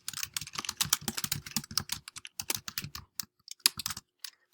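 Rapid bursts of keystrokes clatter on a computer keyboard, close and crisp, in uneven clusters with brief pauses between words, then trailing off into a few final taps.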